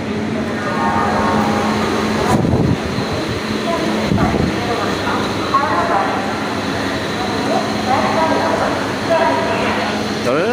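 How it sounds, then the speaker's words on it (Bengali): Inside a Tatanagar–Howrah local train, the carriage rumbles and clatters continuously with low mechanical droning, while passengers' voices murmur throughout. "আমি ট্রেনে উঠে গেছি।"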